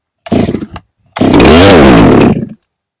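A Farmertec G366 chainsaw, a clone of the Stihl MS361, runs close and loud: a short blip of revving, a brief gap, then a sustained high-idle engine roar that flares and cuts off abruptly.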